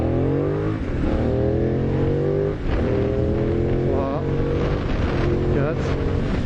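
A Benelli 752S motorcycle engine revs up repeatedly as it accelerates through the gears, loud and close, with a steady wind rush underneath.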